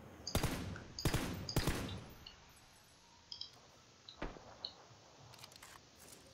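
Gunfire from the PUBG battle royale game: three sharp, fairly loud shots in quick succession, followed by fainter scattered clicks and pops over otherwise quiet background.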